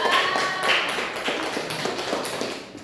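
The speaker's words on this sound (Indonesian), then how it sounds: "Berikan aplaus dulu" Students in a classroom applaud briefly, a dense patter of claps that starts loud and fades away over about three seconds.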